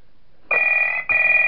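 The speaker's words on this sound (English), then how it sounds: "And do we get a phone call this night?" A telephone rings in the horror video game Five Nights at Ethan's, two loud electronic bursts separated by a brief gap, close and clear with no talking.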